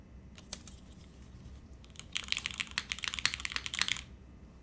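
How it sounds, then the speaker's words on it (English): Rapid clicky keystrokes from a custom Holy60 mechanical keyboard built with regular switches, fast and dense near the mic for a couple of seconds after a few sparse taps, with no talking. "I'm glad this ended up sounding really good with just regular switches."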